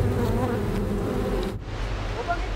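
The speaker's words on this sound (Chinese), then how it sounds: "整个蜂巢都被激怒" A wild honeybee hive roused to fury, a thousand bees swarming in a dense, continuous buzzing drone that fills the air up close, with a rain-like wash of noise joining in partway through.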